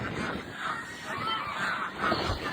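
Geese honk repeatedly in a farmyard beside their nesting boxes, a steady cluster of nasal calls at moderate distance with no talk over them.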